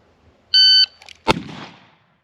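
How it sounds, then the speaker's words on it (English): A single sharp, loud gunshot from a fast-draw revolver at a shooting setup, preceded by a steady electronic timer beep about three-quarters of a second earlier, with a short echoing tail after the shot. "we could shoot this way too"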